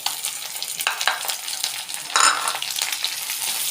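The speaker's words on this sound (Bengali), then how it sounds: "এখন আমি দিয়ে দিব পেঁয়াজ আর মরিচ।" Onion and green chili dropped into hot oil after shrimp have been browned, crackling into a lively close sizzle with intermittent stirring scrapes and no speech.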